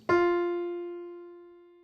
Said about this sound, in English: The lower F sounds like this